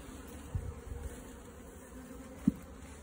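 Honey bees around brood frames in an open hive make a faint, steady buzz, broken by a couple of soft knocks as the frames are handled.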